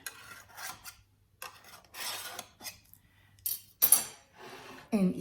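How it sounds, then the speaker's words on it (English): A knife loosens freshly baked banana bread from its baking pan with intermittent close scraping and rasping strokes in short bursts, ending in a few sharper metallic scrapes. "I have let this cool in the pan for 10 minutes, and I'm going to loosen it"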